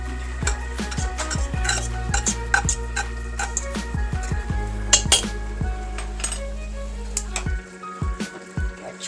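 Goulash ingredients with a heaping tablespoon of oleo being stirred in a pot: repeated scraping and clinking of a spoon against the metal pot, steady and close, under a low hum, with no talking.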